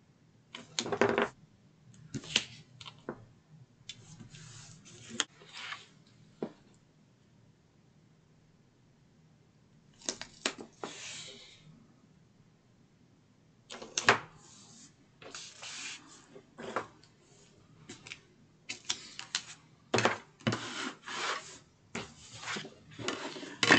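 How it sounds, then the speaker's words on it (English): Tape is pulled and pressed along all four sides of a board piece for a desktop organizer, giving bursts of sticky ripping and rustling between quiet gaps, close and moderately soft. "I am going to add tape on all 4 sides of this"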